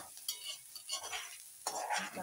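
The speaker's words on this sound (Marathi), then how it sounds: "चांगला ढवळून घेणार आहे." A spoon stirs onion frying in a pan with a little salt, giving faint scraping swirls over a soft sizzle, with a couple of sharper scrapes, quiet and close, no talking.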